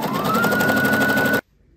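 A sewing machine runs steadily, stitching along the edges of fabric to join three sides, with a fast, even mechanical rattle and a faint rising whine that stops abruptly, leaving near silence.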